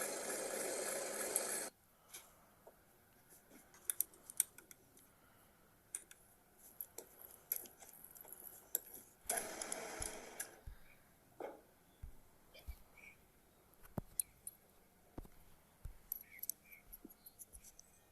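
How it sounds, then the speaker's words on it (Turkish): A handmade two-part pen has its head section adjusted, giving scattered small clicks, taps and scraping rasps, broken by two louder bursts of broadband noise, close and fairly quiet without talk. "Kalemin baş kısmını ayarlıyor şimdi"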